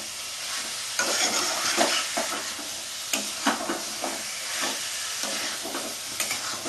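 Chicken pieces sizzle and fry in a pan for Bengali jeera chicken curry, with steady hissing and repeated scraping stir strokes of a spatula, close and moderately loud, no talk.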